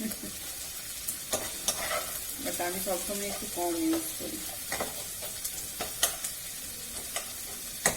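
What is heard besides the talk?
onions frying in a pan for chicken bhuna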